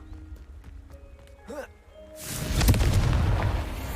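A Confringo blasting spell cast in a wizarding video game: a short warbling magical chirp, then a loud, roaring explosion that blooms and keeps rumbling to the end.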